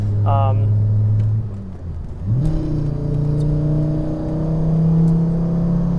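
A 2004 Volvo S60 engine pulls hard through the gears from inside the cabin, a droning tone that drops at a shift, then climbs steadily again, loud and close.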